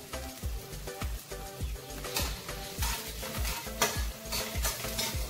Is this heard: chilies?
yes